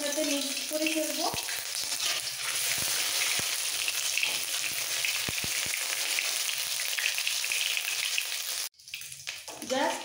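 Garlic paste hits hot oil and sizzles loudly and steadily while being stirred, with a few scraping clicks, before the hiss suddenly cuts out near the end and a voice briefly speaks.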